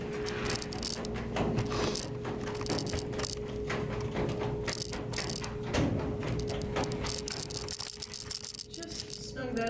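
Coarse threaded screws being driven in while installing a Kat Portal pet door, with a continuous rattling, ratcheting driver noise close by and a steady tone running under it.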